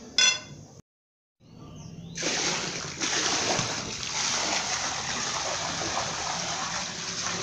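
Water in a backyard swimming pool being stirred vigorously by hand during cleaning without a pump, a steady broad splashing and sloshing that starts abruptly after a short silence and continues loud and unbroken.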